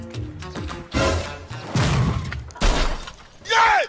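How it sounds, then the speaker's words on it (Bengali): A motorbike is let go and falls over, giving loud crashing, clattering impacts amid people talking, followed by a ringing metallic clang near the end. "বাইকটা ফেলে দিলেন কেন?"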